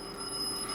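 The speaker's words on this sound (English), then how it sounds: "oops, that's my phone" Mobile phone ringing, a steady electronic ringtone with sustained pure tones, faint and brief, heard alone without talk.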